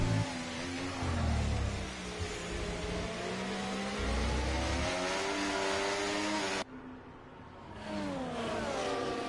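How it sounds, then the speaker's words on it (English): A Formula 1 car engine in a racing video game revs hard and whines as the rear wheels spin for grip at Imola, loud and continuous, with a sudden shift partway through. "You can hear that car on the rear searching for traction, wheel spill, wheel spin"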